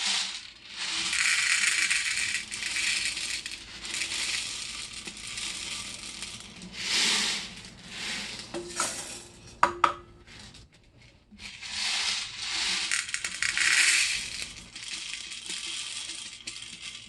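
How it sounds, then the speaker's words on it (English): Popcorn kernels pour into a West Bend theater-style popcorn machine, producing close, loud rattling bursts of hard kernels hitting metal, coming in several separate pours with brief pauses between. "Followed by 1 to 2 cupfuls of popcorn kernels."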